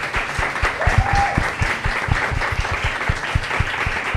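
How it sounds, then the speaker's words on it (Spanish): An audience at an event with trail runners gives a round of applause, steady and dense with some distinct nearer claps, and a brief faint tone is heard in the background. "les quiero pedir un fuerte aplauso aquí para esta pareja"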